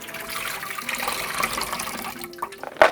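Soaking water from soybeans pours and splashes steadily into a container, a continuous running wash that ends with a brief louder splash.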